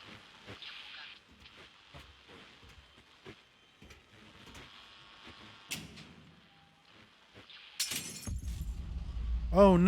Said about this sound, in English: Oh no, someone dropped a glass bottle.